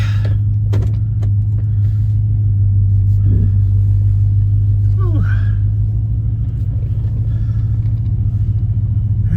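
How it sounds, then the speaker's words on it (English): Audi TT being driven, a steady low engine drone and rumble with occasional brief chirps and knocks, heard close from inside the car with no talking. "Let's go drive this in the back and see what it feels like."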